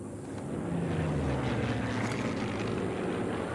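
A propeller airplane drones overhead in the video game Sniper Elite 3, a steady, moderately loud engine rumble that swells slightly and holds throughout, with no voices.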